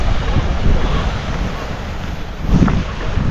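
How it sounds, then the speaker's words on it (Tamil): Strong wind blows across open ground in Antarctica, a loud gusting rush that buffets the microphone. The wind swells and dips, with a sharper gust near the end. "கொஞ்ச நேரத்திலே பயங்கரமாக காற்று அடிக்குது"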